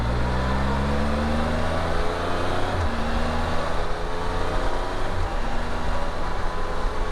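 Steady engine drone and wind rush from a 2020 Can-Am Spyder RT Limited three-wheeler cruising back roads, a continuous loud hum with slowly shifting engine tones and no speech.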